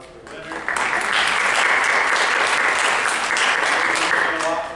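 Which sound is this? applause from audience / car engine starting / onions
applause from audience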